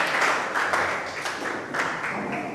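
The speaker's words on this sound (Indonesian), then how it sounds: "Ya, tepuk tangan dong." A class of vocational school students claps together in a classroom, a brisk, moderately close patter of many hands with slight rhythmic surges, continuing steadily for a couple of seconds.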